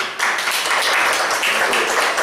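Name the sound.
round of applause from the audience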